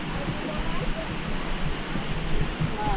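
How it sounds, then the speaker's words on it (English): A creek flows steadily beside a hiking trail, a dense, even rush of water that fills the clip without pause. "This is a nice creek too."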